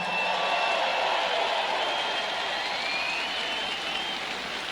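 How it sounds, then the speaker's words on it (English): Steady applause from a rally crowd holds at an even level throughout, a dense hiss of clapping hands with no speech over it. "Let's give him a big hand for that."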